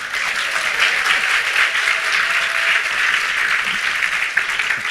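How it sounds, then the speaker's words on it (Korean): A conference audience in Gunsan breaks into loud, continuous applause, a thick even wash of many hands clapping close by, holding steady throughout. "What are they clapping for?"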